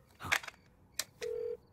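A telephone call on speakerphone, a couple of brief clicks followed by a steady ringback tone that stops briefly and starts again, short and fairly quiet.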